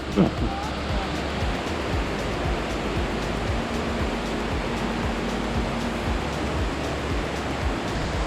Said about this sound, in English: So that was the Pongor waterfall